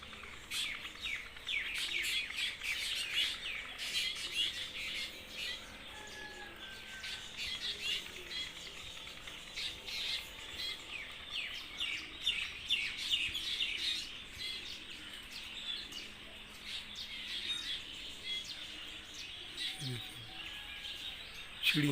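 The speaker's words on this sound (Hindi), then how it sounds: "चिड़ियाँ गुजर रही हैं मुसलसल।" Small birds such as sparrows chirp continuously as they fly past in morning trees, with dense, overlapping high tweets and calls, a few short whistles and occasional wing flutters at moderate distance, and no one talking.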